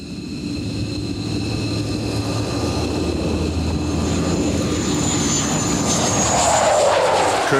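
Engine roar of F-15 fighter jets flying an Arctic air superiority mission, a steady loud rumble and whine that swells toward the end.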